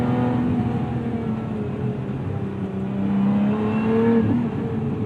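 A 2024 Lotus Emira sports car's engine pulls hard through a corner, with a steady loud drone whose pitch rises and falls as the throttle is worked. No one speaks.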